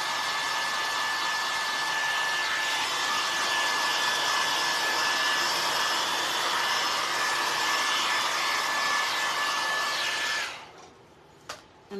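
A hair dryer blows steadily and loudly on a wet, chippy farmhouse-style wonky ghost craft, a constant whooshing drone with a thin whine that runs unbroken for about ten seconds before cutting off abruptly.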